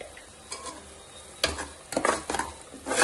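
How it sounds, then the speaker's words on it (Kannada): Masala seasoned with coriander powder and salt fries in oil in a pan, giving a steady low sizzle with scraping stirs and louder bursts of spoon-on-pan clatter near the end. "ಮಸಾಲೆ ಸ್ವಲ್ಪ ಎಣ್ಣೆ ಬಿಡಬೇಕು, ಅಷ್ಟು ಫ್ರೈ ಮಾಡ್ಕೊಳ್ಳಿ"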